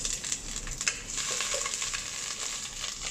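Ginger sizzling in hot oil for a Filipino daing tilapia escabeche: a bright, steady frying hiss with small crackles and pops, close and fairly loud, with no talking.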